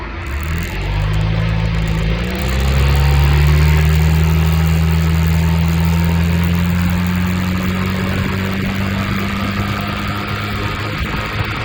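Suzuki Burgman 650 scooter cruising along a road in Austria, its steady engine drone holding a constant pitch after a brief rise, loud and continuous with wind noise and no talk.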